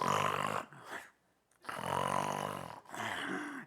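A man vocally imitates loud snoring in two long, rasping voiced bursts separated by a short silence, with a brief snort-like sound in between. It is close and fills most of the clip.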